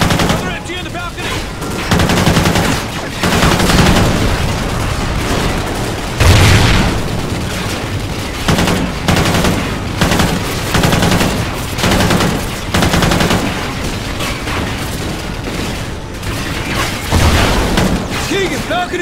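Loud, sustained machine gun fire rattles in dense bursts through a Call of Duty: Ghosts battle, mixed with booming impacts and shouted voices.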